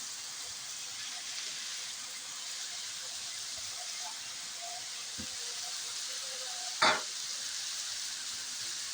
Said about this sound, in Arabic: اديها تشويحه في الصوص بتاع البصل مع الفلفل